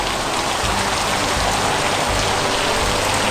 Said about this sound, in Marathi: एकदम तुफान पाऊस पडतोय बघा,